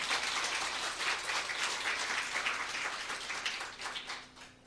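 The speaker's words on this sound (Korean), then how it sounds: "우리 감사하는 마음으로, 성가대 격려하는 마음으로 힘찬 박수 부탁드립니다." A church congregation at a Christmas service applauds the choir with dense, continuous clapping that fills the room and tapers off toward the end.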